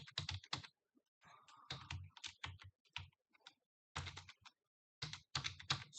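Computer keyboard typing while Python code is written, close and crisp bursts of rapid keystrokes separated by short pauses, with no talking.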